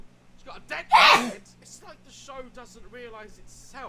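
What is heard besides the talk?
sneeze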